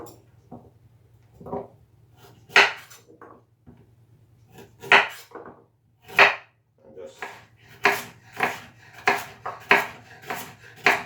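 A knife chops through cucumbers on a board in sharp, uneven strokes, sparse at first and then quickening into a steady rhythm, close and clear.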